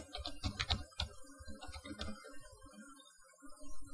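Someone types a password on a computer keyboard, with bursts of quick close key clicks separated by brief pauses and a few louder keystrokes, the tapping picking up again toward the end.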